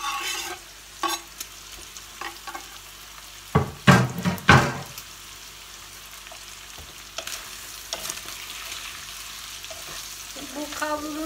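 Lamb and onion frying in a pan with a steady low sizzle, broken by a few loud clattering stirs and scrapes near the middle, with no talking.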